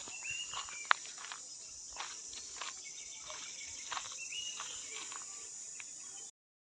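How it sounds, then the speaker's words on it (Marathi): Crickets in a Konkan forest near Sangameshwar in May keep up a constant high, thin chirring drone, while nearby footsteps crunch and rustle irregularly beneath it, with occasional sharp clicks, before everything cuts to silence. "त्याला आम्ही चिंचिन्या बोलतो ह्या सीझनलाच त्यांचा जास्त आवाज असतो"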